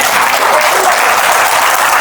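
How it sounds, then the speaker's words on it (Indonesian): A church congregation applauds together, a dense, steady wash of clapping from many hands that fills the whole two seconds without pause. "Kasih tepuk tangan untuk Tuhan."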